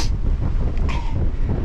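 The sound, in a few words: strong wind on Clingmans Dome trail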